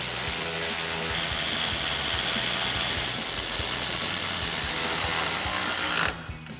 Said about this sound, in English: Install our bolts at the top. And tighten them down with our 10mm socket.